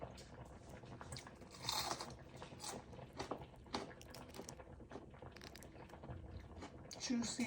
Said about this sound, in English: I want y'all to hear this crunch.